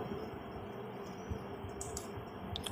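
Fast keystrokes clatter on a computer keyboard, a run of quiet, irregular clicks heard close up over a steady background hiss, with no talk.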